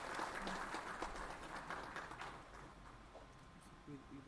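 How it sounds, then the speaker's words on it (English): Audience applause at a World Environment Day event, a dense wash of clapping that holds fairly steady and slowly thins out over several seconds. "I please request a loud round of applause from all of you."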